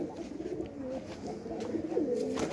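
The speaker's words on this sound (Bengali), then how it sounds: "এই যে কবুতরটা এখন বসে আছে।" A pigeon coos softly nearby, low murmuring calls repeating over quiet background noise.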